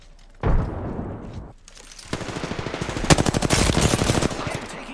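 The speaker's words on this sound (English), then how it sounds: "I am taking fire." Video game gunfire in a battle-royale shooter, a short loud burst followed by rapid automatic fire, close and sharp, with little else around it.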